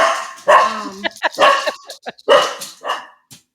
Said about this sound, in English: Ooh, sorry, there's the dog.